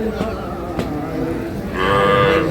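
Sahiwal cattle at the Ambari livestock market: a near cow or calf lets out a loud, drawn-out moo toward the end over a murmuring crowd.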